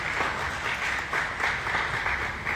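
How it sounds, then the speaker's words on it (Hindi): Audience applause at a Bhojpuri film star's stage event, fairly faint and distant, with uneven bursts of clapping across a couple of seconds. "इनके लिए एक जोरदार ताली हो जाए भैया"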